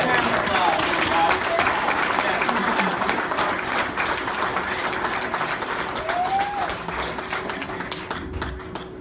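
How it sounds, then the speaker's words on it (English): An audience at a bluegrass gathering gives a big round of applause for Troy Renfro Proffitt receiving the Carter Stanley Memorial guitar, sustained clapping fading gradually toward the end, with a few faint voices underneath. "Please, give him a big round of applause."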